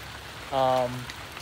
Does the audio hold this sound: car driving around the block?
no